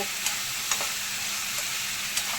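Vegetables with turmeric sizzle steadily in a pan over a gas flame, with a few soft stirring scrapes breaking through the constant frying hiss.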